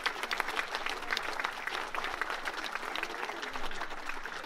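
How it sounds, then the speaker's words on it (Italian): Audience applause at the inauguration of a memorial garden in Cleto, a steady burst of many hands clapping that holds fairly even throughout, with no talk over it. "Un applauso alla professoressa Mannarino"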